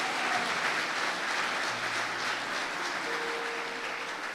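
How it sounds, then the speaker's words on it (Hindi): A church congregation clapping their hands in praise, dense sustained applause from a large crowd filling the room without a break. "I want you to clap your hands and give him praise"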